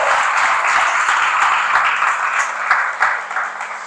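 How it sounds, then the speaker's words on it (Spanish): A church congregation claps for Jesus in a loud, full burst of applause that fills the room, dense and continuous before thinning into scattered claps toward the end. "Aplauda a Jesús con fuerza, por favor."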